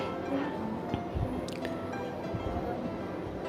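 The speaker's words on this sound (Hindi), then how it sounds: "दुग्गू अपने पापा के लिए पानी खुद ही आजकल फ़िल्टर से ले सकता है" Drinking water flows from a household water filter into a container, a soft, steady trickle with light dripping, close by and fairly quiet over a faint background murmur.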